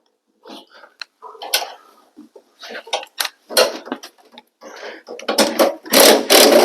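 A drill with a short bit works the blower motor screws on an Amana AMH80453AXCB furnace, giving loud, close bursts of whirring and ratcheting separated by brief pauses.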